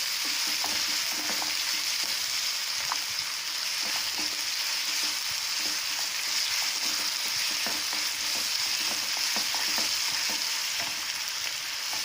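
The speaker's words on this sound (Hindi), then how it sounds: "ये सारे डाल देते हैं। इनको सब्जियों को भूनेंगे।" Vegetables and green chillies frying in a pan for a paneer stuffed kulcha filling, a loud continuous sizzle with frequent scraping stirs of a spatula and no voices.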